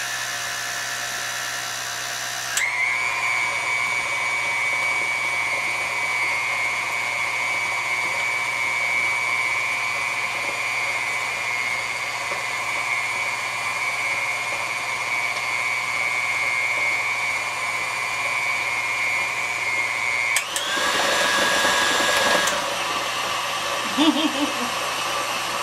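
An electric mixer beats cream cheese pound cake batter with a steady high motor whine that holds for about twenty seconds. The pitch then shifts briefly as the speed changes, and the bowl scrapes lightly near the end.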